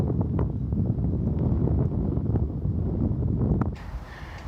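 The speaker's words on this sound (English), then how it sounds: "Windy, yes, but that's to be expected." Steady wind buffeting the microphone at an exposed hilltop vantage point overlooking a canal, a continuous loud low roar that drops slightly near the end.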